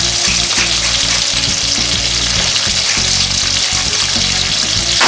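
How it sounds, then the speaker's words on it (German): A salmon trout fillet fries skin-side down in a pan with a loud, dense, crackling sizzle that stays steady and close throughout, with no talk. "Also, wie gesagt, auf der Haut gebraten."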